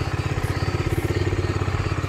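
A Bajaj Dominar 250 motorcycle idles after a cold start, following a week or more unused, its single-cylinder engine thumping in a steady, loud, even rhythm close by with no talk over it.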